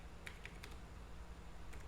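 Keys clatter on a computer keyboard while a formula is entered in Excel, a few quiet, quick taps in small clusters over a soft background hiss.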